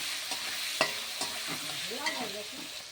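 Potatoes seasoned with salt and turmeric sautéing in a pan, a steady sizzle with a handful of sharp scrapes and stirring knocks from the spatula.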